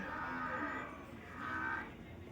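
Water buffalo lowing at a busy cattle market in Crosur, a drawn-out moo rising twice over a constant crowd murmur, moderately near.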